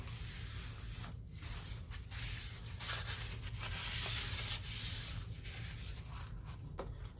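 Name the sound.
cleaning a baking pan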